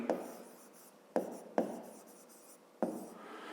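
Handwriting on paper with a pen, four short scratchy bursts of strokes separated by brief pauses, close and fairly quiet.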